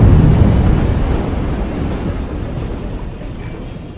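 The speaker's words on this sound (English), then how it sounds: "Gas main explosion will clear out this area pretty well as well." A gas main explosion in the video game Atom Zombie Smasher: a loud, broad low rumble that starts strong and slowly fades over a few seconds, with a thin high tone appearing near the end.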